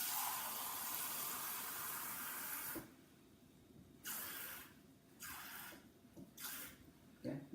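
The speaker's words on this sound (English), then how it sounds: "fill this up with 1 cup" Water poured into a cup-sized container for a salt experiment, a steady close hiss of pouring that stops, then several short splashy pours in quick succession.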